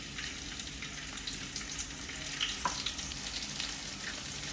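Garlic sizzles in a hot pan for an Agri Koli style stuffed dumpling dish, a steady crackling fry with small pops and the occasional stir, close up and with no voices.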